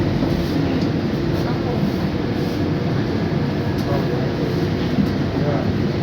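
BTS Gold Line rubber-tyred driverless train in Bangkok rolling into its terminal station: a steady, low rumbling hum with no clear wheel clatter, continuous and fairly loud throughout.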